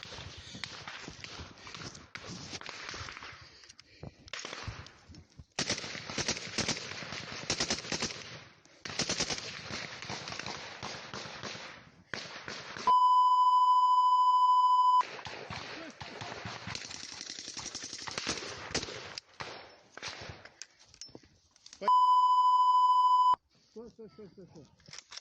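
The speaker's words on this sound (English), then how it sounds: "footage of a Freedom of Russia Legion soldier in the middle of a firefight" Bursts of gunfire crack through a Ukraine war firefight around a Freedom of Russia Legion soldier, with rapid automatic volleys and scattered shots, footsteps and shouting voices, broken twice by loud steady electronic beeps.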